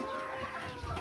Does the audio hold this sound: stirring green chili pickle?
no